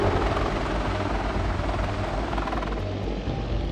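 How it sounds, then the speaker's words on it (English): A Sikorsky CH-53E Super Stallion heavy-lift helicopter gives a loud, continuous rotor and engine roar with a steady low throbbing beat, close and alone, with no voices. "another heavy-lifting helicopter, the Sikorsky CH-53E Super Stallion"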